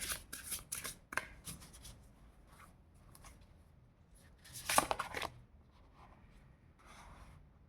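A tarot deck is shuffled close by in several quick bursts of riffling and rubbing card noise, separated by quieter pauses.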